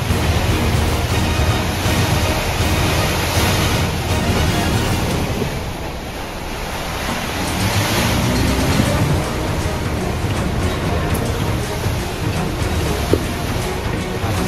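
Swirling gusts of Typhoon Uwan batter a nipa hut in the early morning, a relentless broadband roar like heavy surf and pouring rain that dips briefly midway before surging again.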